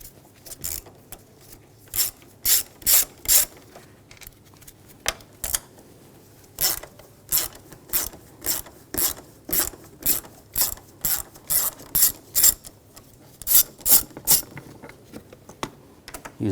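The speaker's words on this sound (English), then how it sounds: "And there's two bolts over here, use a 10mm socket," A 10mm socket ratchet works bolts loose on a 2007-2013 BMW X5 3.0L inline-six, giving bursts of sharp, close clicking separated by short pauses, with no talk.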